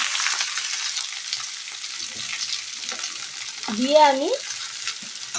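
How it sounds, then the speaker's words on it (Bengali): Drained cabbage sizzles in a hot pan with green chillies, giving a steady frying hiss while a person speaks briefly over it. "এরপরে আমি জল ঝরিয়ে রাখা বাঁধাকপিটা দিয়ে দিই"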